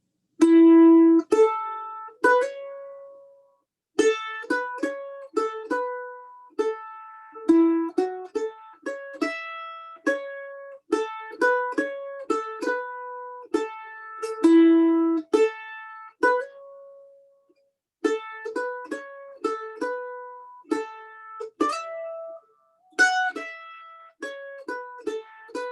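A mandolin plays the complete A part of a fiddle tune alone, with clean plucked single notes in a lively, steady rhythm, repeated phrases and brief pauses between them, close and clear.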